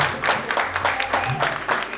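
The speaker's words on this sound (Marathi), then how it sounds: "एकदा जोरदार टाळ्या आपल्या मैत्रीसाठी" Hands clapping at a 1989-batch school reunion in Balak Vihar Vidyalay, a short burst of rhythmic, fairly close claps from a small group with a murmur of voices under it.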